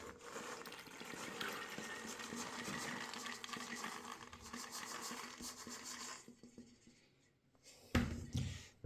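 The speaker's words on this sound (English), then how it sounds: "So I'm going to start with the peas. I'm just going to pour them in" Dry pea seeds poured into a microgreen seeding tray, a continuous close rattling hiss of many small seeds tumbling out, stopping abruptly before a final brief shuffle.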